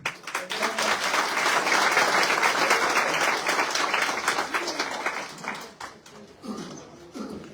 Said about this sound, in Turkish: Önce emek veren sizlere bir alkış istiyorum